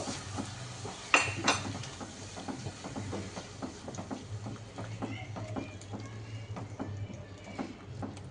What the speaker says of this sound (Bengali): দইটাকে একটু মিশিয়ে নেব